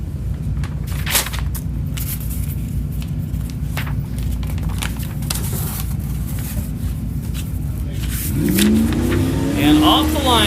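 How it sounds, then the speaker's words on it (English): A 1999 Jeep Wrangler race car launching off the line during off-road race qualifying: a loud, steady engine roar under a commentator's voice, rising in revs near the end. "off the line is Eddie Oliver and Justin Lyons in that 1999 Jeep Wrangler out of Federal Way, Washington"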